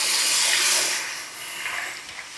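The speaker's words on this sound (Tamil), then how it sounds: "இப்போ குழம்பு ஊற்றிடுவோம்." Crab curry gravy pours into a cooking pot, a steady hissing splash with a brief sizzle as the liquid hits, close and fairly quiet, with no voices.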